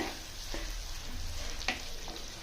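Cashews fry gently in a pan over low heat, a steady soft sizzle with a faint stir or clink partway through.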